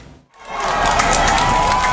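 Outdoor crowd breaks into cheering and applause as the last ambulance, carrying the coach of the Thai cave rescue, drives past; after a brief lull the sustained roar of many voices and clapping rises and holds loud and steady.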